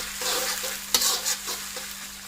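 Onions for a Peshawari mutton karahi fry with a bright, continuous sizzle while a spoon stirs them in a few rhythmic scraping passes, one sharper clack near the middle.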